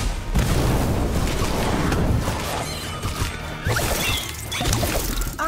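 An Incendio fire spell in Harry Potter: Magic Awakened bursts with a loud, full booming blast and crackling rush that rolls on for several seconds amid layered battle effects.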